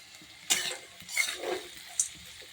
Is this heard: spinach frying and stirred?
yes